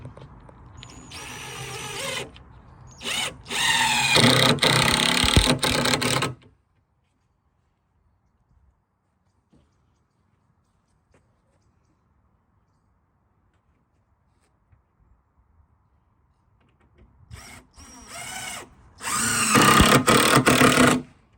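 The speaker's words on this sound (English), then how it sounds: "now you just start screwing it in" A power drill drives screws into the wooden frame of a volleyball rebounder in two loud whirring bursts, one at the start and one near the end, separated by a long near-silent pause.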